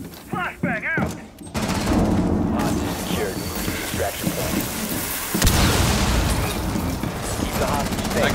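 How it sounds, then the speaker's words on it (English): A flashbang grenade goes off in a Rainbow Six Siege Terrorist Hunt match with a sudden broadband blast amid dense, continuous gunfire and combat noise, with game voices calling out. "Flashbang out!"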